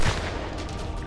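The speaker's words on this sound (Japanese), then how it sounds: "今の銃声で" A single gunshot in the survival video game Sunkenland, set at a dark sea-base raid, sounds as a brief, fairly faint distant report with a dull tail, alone without talk.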